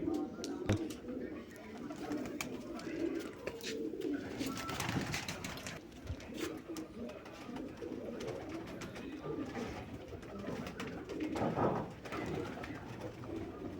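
Pigeons coo softly and repeatedly nearby amid rustling and flapping while being fed grain, with faint background noise throughout.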